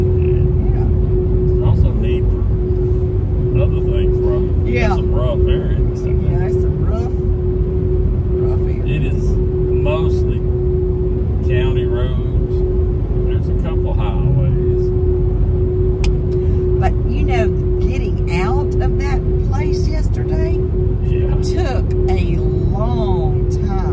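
Road traffic flows past in both directions as a constant loud rumble with a steady hum, while people talk over it throughout.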